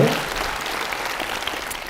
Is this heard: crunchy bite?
no